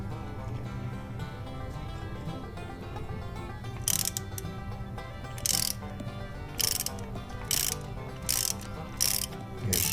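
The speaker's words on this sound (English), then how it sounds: "I've got a socket that fits this, so what we'll do is we'll ease in on it" A socket ratchet clicks in repeated short bursts while tightening an oil pressure fitting on an Early Bronco, the crisp ratcheting heard close over a steady low background hum.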